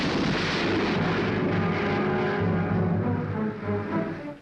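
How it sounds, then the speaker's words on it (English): Archival recording of the Trinity nuclear test explosion: a sustained, loud, dense rumbling roar filling the whole clip with no speech, easing slightly toward the end. "Miles into the air rises the giant shape of the now historic explosion."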